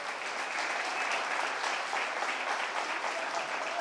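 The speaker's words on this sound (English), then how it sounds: "let's go ahead and give these senior showmen a big round of applause" A crowd at a county 4-H dairy goat show applauds the senior showmen, giving a dense, steady wash of clapping that holds at an even level throughout with no talk over it.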